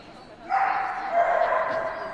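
A focused dog barks and yelps during an agility run at the London World Team Tryouts in 2009, a loud burst of sharp, whining calls over roughly two seconds, with a voice talking underneath.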